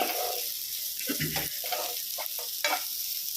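Capsicum pieces sizzle and crackle in a hot pan while paneer rice cooks, with bursts of stirring and scraping over a steady frying hiss, close and alone.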